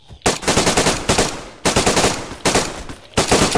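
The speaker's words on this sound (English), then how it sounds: "No, it's him shooting." Rapid automatic gunfire in the survival video game DayZ, loud and close, coming in several sustained bursts separated by short pauses, with no talking.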